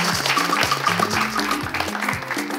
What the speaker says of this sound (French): merci de faire un tonnerre d'applaudissements pour nos deux musiciens